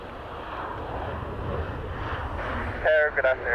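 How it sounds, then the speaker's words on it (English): An airliner touching down and bouncing on the runway at Dublin Airport, heard as a steady distant engine roar and rumble, with a brief radio-like voice cutting in near the end. "Whoa, that touched down and bounced."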